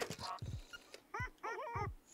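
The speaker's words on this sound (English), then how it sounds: "Return the dog." Bow Wow the dog in the Nintendo Switch game Link's Awakening gives several short whimpering yips and whines over soft game music, spaced unevenly across the moment.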